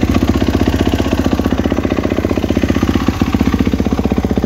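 A Kawasaki KX450X dirt bike engine idling on its side stand, a loud, close, fast regular thumping pulse that holds steady throughout, with no voices.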